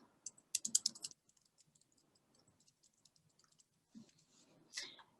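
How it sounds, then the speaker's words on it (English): Keys clatter on a computer keyboard as an email is typed, with a quick burst of clicks early on and a few scattered, softer taps afterward in a quiet room. "I'll type in that email right now"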